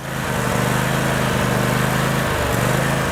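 Handheld lawn mower with a grass discharge deck running loud and steady, a close buzzing engine drone with slight pulsing and no talk.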